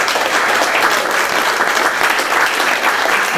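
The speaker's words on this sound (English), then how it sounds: "So please give him a round of applause." A studio audience claps for Mark Bax, a dense, steady round of applause that stays loud and even throughout with no voices over it.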